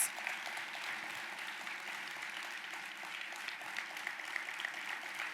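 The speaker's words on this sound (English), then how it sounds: "That deserves a round of applause." Audience at the Cleveland UNCF Mayor's Luncheon applauding a speaker, a steady, even patter of many hands sustained throughout at moderate level, with no talking over it.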